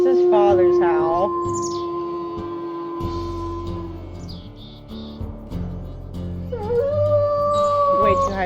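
A long wolf howl in the video game WolfQuest rises and holds a steady tone, then a second howl follows after a pause, with faint chirps and background ambience in between.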